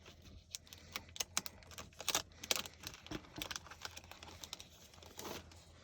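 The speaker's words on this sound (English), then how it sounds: "And these just came from the Dollar Tree, the stickers that I'm opening now." A package of Dollar Tree 3D stickers is handled and opened up close, giving crisp crinkling and sharp plastic rustles in irregular bursts with brief quiet gaps, and no talking.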